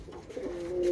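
Pigeons coo softly near a balcony, with a low, faint, steady cooing held alone for under a second.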